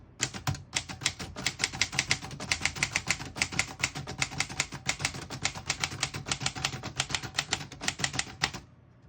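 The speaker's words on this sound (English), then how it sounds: "I'll type a sentence on the next line" Rapid, steady keystrokes on a 1932 Remington Portable typewriter clack close by for several seconds, with a brief pause near the start and the typing stopping just before the end.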